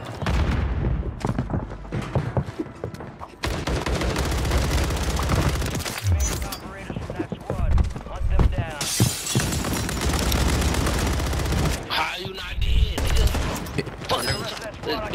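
FFAR rifle fire in Warzone, loud rapid automatic bursts with shattering impacts and booms, coming in dense volleys separated by short pauses across a chaotic battle soundscape, with a voice talking at times.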